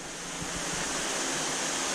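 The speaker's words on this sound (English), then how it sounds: "the water rains on it from the height of about 3-4 feet" Water rains down from a shower tower about three to four feet onto a 25,000 gallon fish tank, a steady, close, hissing splash that builds slightly and holds, with no voices.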